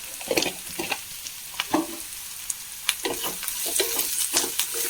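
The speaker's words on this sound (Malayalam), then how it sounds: "ഒന്നര സ്പൂണ് ചതച്ച മുളകിട്ട് കൊടുക്കുന്നുണ്ട്" About one and a half spoons of crushed chili fry in a pan during a simple home lunch preparation. A close crackling sizzle is broken by repeated scraping stirs and utensil knocks, and it swells slightly toward the end.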